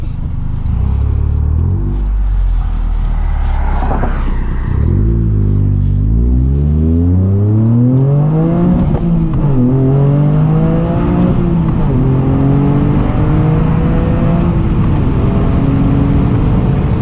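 A 2023 Toyota GR Corolla with an FI aftermarket exhaust accelerates hard in sport mode, its loud engine note climbing steadily through several rising gear pulls, close and continuous with no talking.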